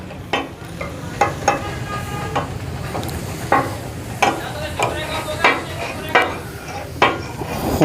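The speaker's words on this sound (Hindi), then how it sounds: "खूब सिजलिंग वाले शशके हैं।" Tawa chicken leg pieces with chili and a yogurt mixture sizzle on a hot griddle at a restaurant food stall, with repeated sharp metal scraping and tapping strokes of a spatula stirring in an uneven rhythm over a steady frying hiss.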